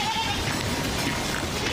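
A flock of sheep driven up a mountain by shepherds in Czechia bleats over a steady outdoor bed of noise, with several voices calling at once.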